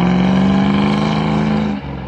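Loud, close car engine idling steadily outdoors on a winter off-road outing, a constant low droning hum that dips briefly near the end.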